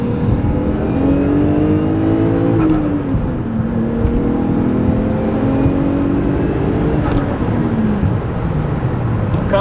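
A manual Toyota Crown engine revving hard on a road run, with rising and falling whine through the gears, steady and close with no pauses.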